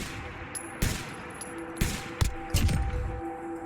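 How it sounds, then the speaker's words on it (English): Several rifle shots in Fallout 4 crack out at irregular intervals, sharp broadband bursts with short tails, over a steady game ambience with a faint tonal hum. "it's a long-range shot"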